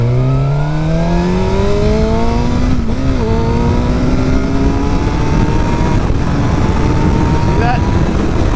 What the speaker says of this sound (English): I'm gonna take this turn and I'm gonna be in my second gear and I'm gonna pull real quick